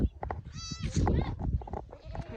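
Goats at spring kidding time on a Mongolian farm, bleating nearby in several overlapping quavering calls over a low background of shuffling and animal noise.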